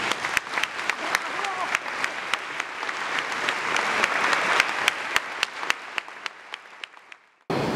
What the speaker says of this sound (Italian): Qui ci va l'applauso, qui ci va.